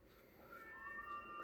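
A cat meows faintly in the background during a tongits card game: thin, drawn-out cries over low, steady room noise, with no talk.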